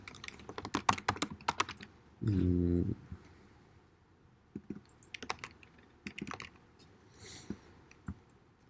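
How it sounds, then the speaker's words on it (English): Fingers tap out quiet bursts of keystrokes on a computer keyboard, broken once by a short low hum and pausing between clusters of clicks. "So I'm just typing in my own matrix here."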